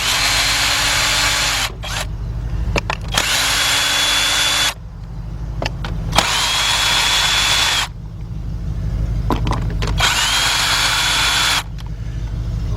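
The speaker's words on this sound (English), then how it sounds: "get our cordless gun, Craftsman, and I got my adapter on it. I got a 10mm deep 3/8 drive socket." Craftsman cordless impact gun fitted with an adapter and a 10mm deep 3/8-drive socket, removing bolts on a Hyundai V6 engine; loud, close whirring bursts of one to three seconds each, separated by short pauses, with no talk.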